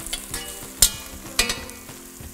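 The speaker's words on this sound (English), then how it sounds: "I'm gonna saute this until it's golden" Vegetables sizzle steadily in a hot pan on a cooking-school set, with a few sharp scrapes and clatters of a utensil stirring them at an uneven rhythm, close and fairly loud, with no talk.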